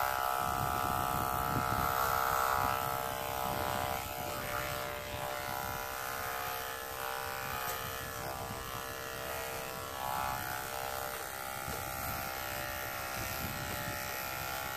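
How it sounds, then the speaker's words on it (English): Electric clippers fitted with a 10 blade buzz steadily and loudly up close as they shave a cow's udder, the hum continuing without a break. "clippers, and we're just gonna use a 10 blade on them"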